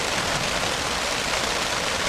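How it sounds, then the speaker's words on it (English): Steady rain and distant thunder on a tarp over a hammock at a solo campsite in the Boundary Waters Canoe Area in September, a continuous dense hiss with low rumble underneath and no talk. "enjoying the rain and the thunder."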